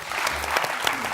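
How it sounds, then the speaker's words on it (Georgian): A studio audience breaks into brief, dense applause, steady clapping from many hands heard close and fairly loud. "აპლოდისმენტები."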